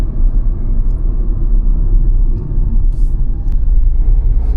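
Steady low rumble of road and engine noise fills the cabin of a Tata Punch facelift cruising at 90 km/h in sixth gear, a constant drone with faint higher hiss and no sharp events.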